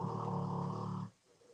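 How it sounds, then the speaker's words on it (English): A big pit bull snores softly in the background, one long low rumbling breath that fades into quiet. "You probably hear this big ass pit bull snoring in the background"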